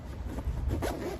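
A zipper on a pocket of a jiu jitsu backpack is pulled in a quick couple of close, scratchy strokes, alone without talk.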